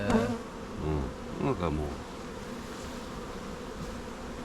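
Honeybees buzzing on a hive comb during a beekeeping inspection: a steady, close, low hum runs through the whole clip, with a short spoken word near the start.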